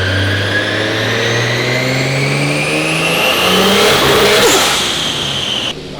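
A loud turbocharged JZ-engined Nissan S13 coupe revs hard and climbs steadily in pitch, then stutters and breaks up as it hits boost cut near the end.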